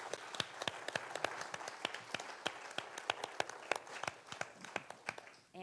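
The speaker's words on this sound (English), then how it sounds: "if you could join me in a round of applause" Scattered, fairly faint applause from a small audience at a candidates forum, individual claps clearly separated in an uneven patter, with no talking.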